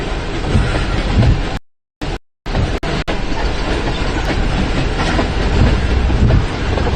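Freight train rolling past during a storm chase in Iowa and Illinois, a loud continuous rumble with clattering cars and wheels, close by, with a couple of brief dropouts.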